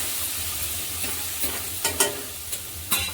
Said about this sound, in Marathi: थोडंसं हिंग टाकलं चिमूटभर छान अशी मिक्स झाली